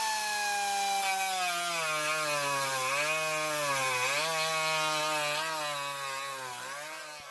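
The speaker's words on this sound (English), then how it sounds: "I'm gonna do some cutting. Got some Sharpie. Got some Dremel." A Dremel rotary tool cuts material to mount a hydraulic handbrake in a BMW build, a loud high-pitched whine that holds steady and wavers slightly in pitch as it bites, continuous throughout and close.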